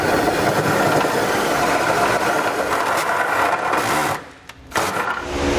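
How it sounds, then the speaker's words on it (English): A drill with a step bit enlarges a hole in the metal frame rail of a 2017 Subaru Crosstrek to fit a trailer hitch receiver. It gives a loud, continuous grinding whine that briefly dips near the end, then resumes. "Now I'm going to use a step bit to make this hole bigger."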